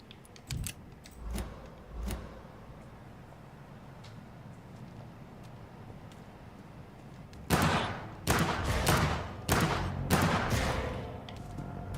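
Gunfire in the Vampyr video game: a few isolated shots early on, then a dense burst of loud repeated blasts in the second half over a low ambient background.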